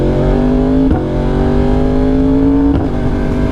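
A 2020 Yamaha R1 motorcycle engine revs steadily while riding, a loud, close, sustained tone with rising pitch and two brief shift-like breaks, no talking.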